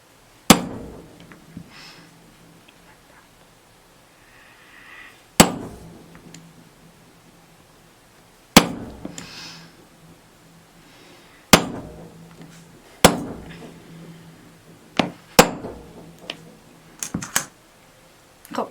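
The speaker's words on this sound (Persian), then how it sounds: "یه ضربه میزنید و سوراخ میشه" A hammer striking a steel punch through leather to make holes, with sharp loud single knocks spaced a few seconds apart, closer together toward the end, and quiet handling sounds between blows; no talking.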